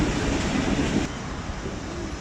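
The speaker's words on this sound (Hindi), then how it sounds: "ये लग गई ब्रेकें।" Bahauddin Zakaria Express braking at the Landhi Junction platform gives a loud, dense rumble and hiss of the train rolling in; the high squeal drops away about halfway as the sound eases, heard close with no talking.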